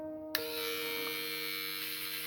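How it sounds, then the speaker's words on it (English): A small electric sander switches on abruptly and runs with a steady high buzzing whine while smoothing seam lines on a plastic miniature, close and continuous, with no talking. "just very lightly you can take this sander and go over them"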